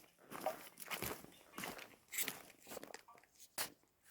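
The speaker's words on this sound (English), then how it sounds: "Oh yeah, it actually is kind of crunchy still." Footsteps crunch on old snow and ice along a hiking trail at Ten Lakes, each step a short gritty crackle at an uneven walking pace, close and fairly faint, with no talk.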